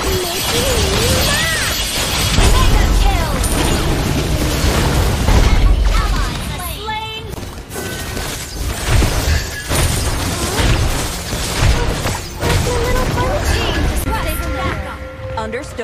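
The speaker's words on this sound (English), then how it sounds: "Your team destroyed the turret." A turret being destroyed in the mobile game Mobile Legends, with bursts of crashing, booming explosion and shattering under a dense layer of game music and effects, with voices talking over parts of it.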